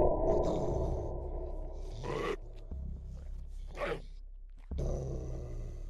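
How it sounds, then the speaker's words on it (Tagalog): A dog barking at a house at night: a few short, rough bursts spaced a second or two apart over a low steady rumble, with no talk. "Nang makarinig sila ng pagtahol ng aso sa bahay nila."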